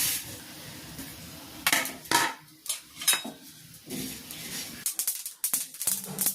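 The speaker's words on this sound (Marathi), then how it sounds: "आता मी जवस भाजून घेते." Flaxseeds dry-roasting in a pan for a chutney with dried red chillies and garlic give off intermittent scraping and rattling stirs over a soft, steady hiss, with louder bursts and clatter at irregular moments.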